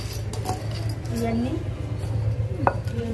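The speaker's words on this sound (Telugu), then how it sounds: "ఇవన్నీ దంచుకోవాలి బాగా." Tamarind, jaggery, rock salt and cumin being pounded together, with dull repeated thuds and scraping knocks of a pestle, a few clinks between, over a steady low hum.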